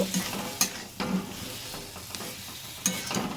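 Mini boiled potatoes with a little sugar sautéing in a pan for aloo dum, a soft steady sizzle broken by several sharp scrapes and clacks of a stirring spoon, close and unvoiced.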